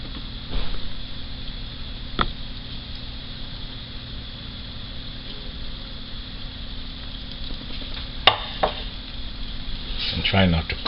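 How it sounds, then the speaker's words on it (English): Salmon cakes fry in hot oil with a steady, even sizzle throughout, broken by a few faint clicks and a light clatter near the end. "So my oil is at 310, so I'll start the frying process here."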